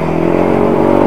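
A repaired motorcycle engine idles steadily nearby, a loud, even running drone with no voices.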